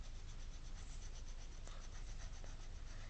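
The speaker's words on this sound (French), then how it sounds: "vous coloriez tout ce qui est au-dessus" A marker rubs back and forth across paper while an area is colored in, a steady close scratchy rasp with quick repeated strokes throughout.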